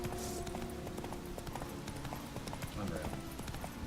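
Roach the horse galloping in The Witcher 3, hoof clip-clops drumming steadily over a dense game soundscape with a low musical drone underneath.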